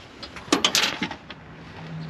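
A small metal staple drops during a repair, giving a quick burst of light clinking taps in the middle of the moment, close and fairly soft against a quiet background.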